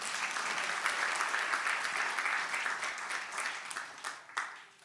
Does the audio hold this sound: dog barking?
no